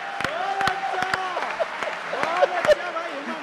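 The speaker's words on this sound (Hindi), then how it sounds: "वही लोग ताली बजा रहे हैं।" Scattered hand claps from an audience at a Hindi comic poetry gathering break out beneath a speaking voice, a few sharp claps at a time rather than a sustained ovation.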